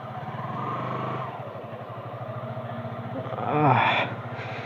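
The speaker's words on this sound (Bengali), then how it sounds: "আজকে বাইকটাকে স্টার্ট দিলাম প্রায় এক সপ্তাহ মতন হচ্ছে" A motorcycle, left unused for about a week, runs with a close, rhythmic idling thump and then gives one short rev before settling back to idle.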